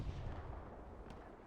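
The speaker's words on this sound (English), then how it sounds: "The artillery is starting to land on those OPs of Sons of Valor here" Heavy rumbling artillery impacts in a World War II tank battle game set at El Alamein, a dense, continuous low boom of distant shelling filling the short stretch, ending with a sharper thump.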